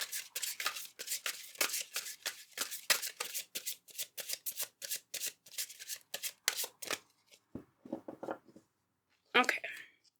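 Tarot cards shuffled by hand in rapid, rhythmic riffling bursts, close and crisp, pausing near the end before a final brief rustle, with no talking.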